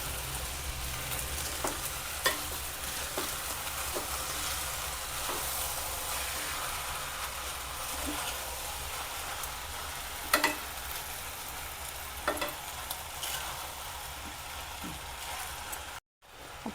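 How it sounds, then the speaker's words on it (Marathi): Rice for coconut rice is stirred and mixed in a hot pan, a steady close sizzle running throughout with scattered soft scrapes and clicks of the spoon against the pan. "आपण आता भात चांगला मिक्स करून घेऊया."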